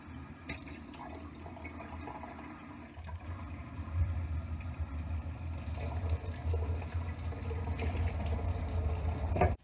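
A cup of water pours into a roast pan holding beef and canned tomatoes, starting as a faint trickle and then swelling into a steady, splashing flow for several seconds, with no speech.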